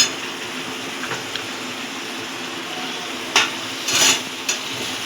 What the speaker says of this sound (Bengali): সিদ্ধ করা সোয়াবিনটা দিয়ে দেবো